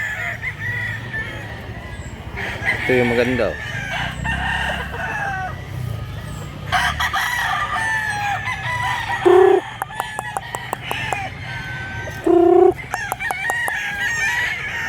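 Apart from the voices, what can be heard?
chickens and roosters crowing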